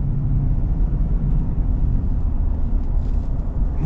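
A Ford V8 rumbles steadily at close range, a dense continuous low drone with no break and no talking.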